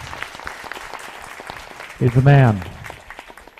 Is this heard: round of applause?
yes